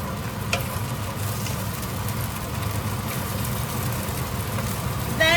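Vegetables for fried rice stir-fry in a hot pan with a constant close sizzle and hiss, a few scraping stirs, a low hum underneath and a brief clatter at the very end, with no speech.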